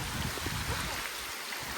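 Heavy rain falls on a village rice farm in Maharashtra, a steady broad hiss of drops on water and leaves, moderately loud and continuous, with no voices.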